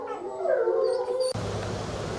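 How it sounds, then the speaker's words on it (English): Wolf pups and adult wolves howl together in a chorus, with squeaky rising and falling pup voices over lower adult tones, then the recording cuts abruptly to a broadband ambient hiss. "it's really fun to hear those pups howling"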